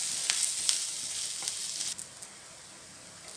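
Onion frying in a pan until browned, a continuous close hiss of sizzling oil with a few light clicks of stirring that fade slightly toward the end.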